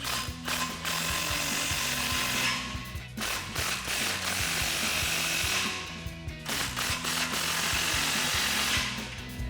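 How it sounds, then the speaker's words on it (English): A ratchet fitted with a 15mm socket tightens exhaust clamps on a 2021-2024 Ford F-150 Borla S-Type dual exhaust, giving rapid, loud, close-up clicking in sustained bursts with two brief pauses. "Then we'll use our 15mm socket and tighten them all down."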